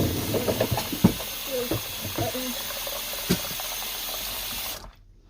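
Tap water runs steadily into a kitchen sink while dishes are rinsed, a continuous hissing splash with a few clinks of dishware, a voice speaking briefly over it before the flow cuts off near the end.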